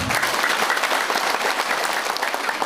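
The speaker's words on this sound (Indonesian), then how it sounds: "Tepuk tangan buat kita semua" Villagers at an outdoor political rally in Sindang Sari clap together, a thick, continuous roar of many hands at close range, steady and loud from start to finish without talk.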